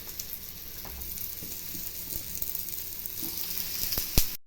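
Raw banana and potato cutlets frying in shallow oil in a pan, a soft continuous sizzle with light crackles and a sharp clatter near the end, no talking.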